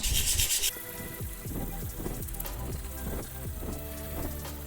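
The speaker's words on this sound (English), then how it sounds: "So I guess we'll start with something like 180 and just build up to a higher grit." Sandpaper of 180 grit rubs over the body of a 30-year-old Ibanez guitar in repeated close strokes, a dry rasping scrape in a steady back-and-forth rhythm.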